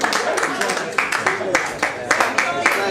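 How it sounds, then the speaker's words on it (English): Audience applause at a Culture Night event in Tuam, honouring a backing vocalist, with bursts of clapping mixed with voices and speech throughout. "Let's hear a round of applause for the backing vocalist down there."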